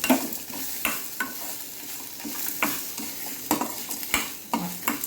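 Horse gram and coconut being dry-roasted and stirred in a pan for chutney, a soft continuous sizzle broken by repeated scraping strokes of a spoon against the pan, close and steady with no talking.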